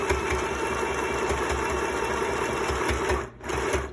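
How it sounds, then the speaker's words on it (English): A sewing machine runs continuously and loudly, stitching a seam across fabric tucks about a quarter inch from the edge of a face mask, with a brief dip near the end. "we're going to sew a seam"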